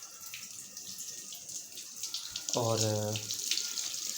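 A tap runs water onto a wet floor during household cleaning, a steady splashing gush that starts partway through and keeps going over light background noise, with a brief word spoken.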